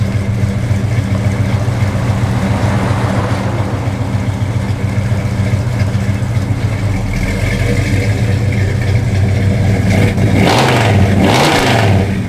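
Loud, rumbling engine of a 1965 Chevrolet Impala idling with a deep steady throb, building into stronger revs near the end, heard up close with no talking.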